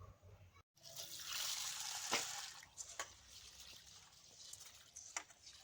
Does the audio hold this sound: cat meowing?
no